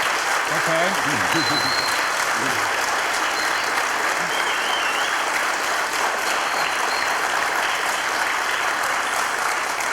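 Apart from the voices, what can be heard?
audience applause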